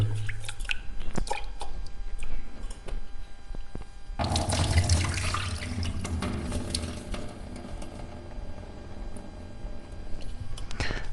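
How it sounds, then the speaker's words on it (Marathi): Rice grains are washed under a running kitchen tap, water splashing and gushing steadily into a sink with sloshing and dripping, close and fairly loud, without talk. "आता तांदूळ धुवून घेत आहे तांदूळ धुवून झाले स्वच्छ"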